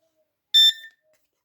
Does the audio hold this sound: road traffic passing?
no